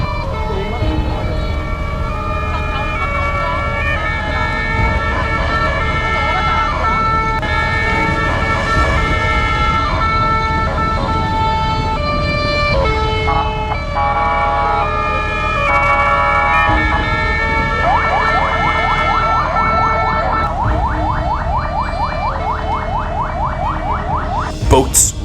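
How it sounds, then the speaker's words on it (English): Ambulance sirens wail steadily over a constant roar of traffic on flooded streets in Hanoi during Super Typhoon Yagi, one overlapping another, with a rapid warbling siren joining near the end. "there's siren, like, we're going ambulance after ambulance after ambulance"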